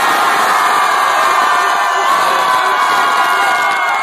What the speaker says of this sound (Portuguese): quem gostou da rima da Camila, faz barulho!